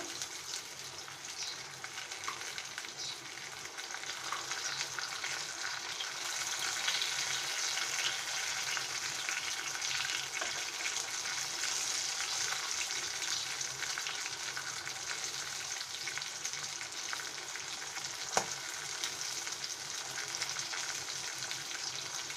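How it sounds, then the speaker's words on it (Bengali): Stuffed teasel gourd (kakrol) frying in oil for shahi kakrol, turned over in the pan: a steady, dense hiss of sizzling with faint scrapes and one sharp click near the end, no voices. "আমরা এইভাবে উল্টে ই করবো সুন্দর মতো ভেজে নেব"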